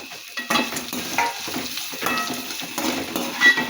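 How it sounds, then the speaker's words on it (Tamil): Tamarind sautéing in a pan for a pirandai thuvaiyal, a steady close sizzle broken by repeated scraping stirs of a spoon against the pan. "இதில் வந்து மீடியம் சைஸ் புளி எடுத்து இதில் ஆட் பண்ணிவிட்டு இதையும் நல்லா வதக்கிக்கலாம்"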